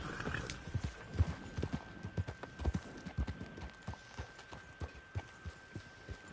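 Steady clip-clop of horse hooves at a walking pace in the video game Red Dead Online, moderately close, with no talking.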